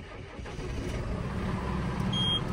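A JCB machine's diesel engine cranks and fires up, its rumble building into a steady idle close by.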